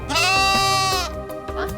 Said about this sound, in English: it's allowing Lammy to go back with a flock of sheep